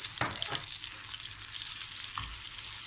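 Pepper paste and tomato paste sauté in hot butter for ezogelin lentil soup: a dense, close sizzle with a couple of quick stirring scrapes at the start and end, no speech.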